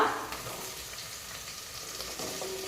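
Potato pieces going into hot oil with green chillies already fried, giving a steady soft sizzle with faint crackles throughout, close and fairly quiet with no talking.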